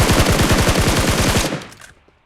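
Rapid automatic gunfire in the mobile shooter BGMI, a fast loud burst of evenly spaced shots lasting about a second and a half, then trailing off into echo and quiet.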